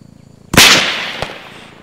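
A single sharp, loud shot cracks close by in a military video game, followed by a fainter second snap and a fading echo over a soft rhythmic ticking background.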